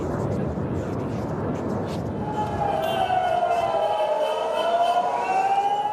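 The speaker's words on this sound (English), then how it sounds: "As sirens sounded across the country" An air raid siren wails, rising and falling in long sweeping tones across Israel during a missile attack, growing louder over a steady background rumble, with no voices heard.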